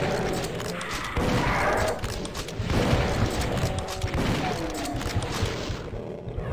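Enemy gunners fire bursts of rapid gunfire in the Doom II: Ad Mortem mod on Map14: Autumn Mausolemn, a dense, crackling fusillade with booming impacts that keeps going for several seconds and then drops away near the end.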